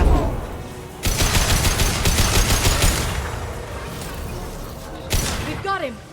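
Dense, rapid bursts of sustained gunfire from the video game Mass Effect 2 rattle loud and close for several seconds, then ease off before a sharp final burst; a voice shouts during the fighting.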